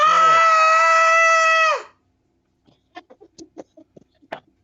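A person imitates a monster's screech with a long, loud, strained screaming wail, held for nearly two seconds, then silence before scattered quiet voices talk and react.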